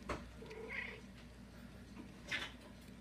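A house cat gives two short meows, close and soft against a low background hum, with a pause between them.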